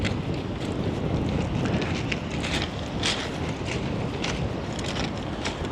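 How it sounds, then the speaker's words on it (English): Steady wind buffets the microphone at a seaside spot, a continuous rushing blow with gusty surges and no voices. "And it's still windy here."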